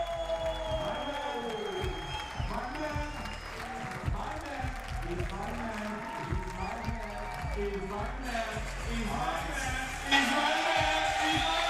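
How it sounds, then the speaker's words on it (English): A crowd claps and cheers at a 3x3 basketball game in a Copenhagen arena, with sustained applause under arena music and an announcer, swelling louder toward the end. "I want you to give him a big round of applause."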